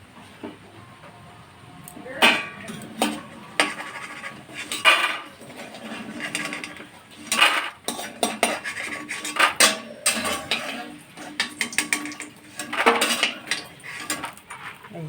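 A metal utensil scrapes and clinks against a frying pan while fried food is lifted out, repeated sharp scrapes and taps at close range over a low background.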